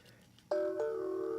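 A phone starts ringing close by during a Bandai 1/144 Millennium Falcon model build: a sudden, clear electronic ring tone, sustained and steady, with a slight retrigger partway through.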